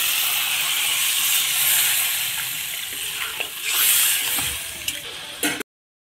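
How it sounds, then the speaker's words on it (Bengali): Water goes into a sizzling fried spice paste for a katla fish curry with potato and tomato, giving a loud steamy hiss and bubbling that swells and fades over several seconds before cutting off. "মশলা কষানো হয়ে গিয়েছে, এখন আমি জল দিয়ে দেবো।"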